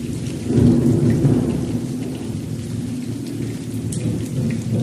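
Steady heavy rain pours throughout, a dense continuous hiss with low rumbling underneath, like a thunderstorm close by.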